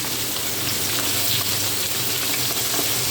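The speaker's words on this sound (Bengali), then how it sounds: "মাছ ভাজি চলছে" Fish frying in a pan of hot oil, a steady dense sizzle with bubbling texture running continuously and fairly loud, close by with no talking.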